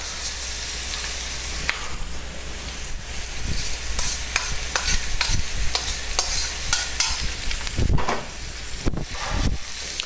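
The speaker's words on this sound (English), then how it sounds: "Now you basically just want to cook this until the onions and the spinach itself is nice and wilted and translucent." Bacon, onions and spinach fry in a pan with a steady sizzle and hiss, broken by repeated scraping stirs and clacks of the utensil, close and clear.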